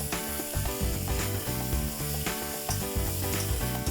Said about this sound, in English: Just mix this well.